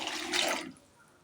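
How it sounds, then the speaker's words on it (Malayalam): Water poured from a cup into a pot of chopped bottle gourd for a pachadi, a short close splashing rush that fades quickly into quiet. "2 കപ്പ് വെള്ളം ഒഴിച്ചു കൊടുക്കാം."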